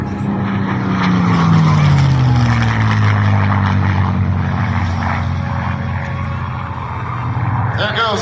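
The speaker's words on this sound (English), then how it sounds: "There goes the Mustang." A P-51D Mustang, a World War II fighter, roars past overhead with a loud propeller engine drone that swells and sweeps down in pitch as it passes, heard alone without talk.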